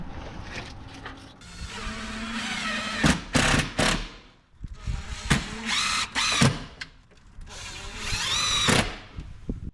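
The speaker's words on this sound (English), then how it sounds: "we also want to put screws on the outside of the hinge side" A power drill drives screws into the hinge side of a Larson storm door, whirring in repeated bursts with ratcheting stops between runs, close and loud, with no talking.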